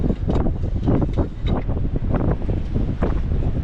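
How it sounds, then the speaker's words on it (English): Strong wind buffeting an outdoor microphone on a mild midwinter day beside a Peterbilt truck, a continuous loud rumbling roar with gusty surges throughout. "Oh, it got windy."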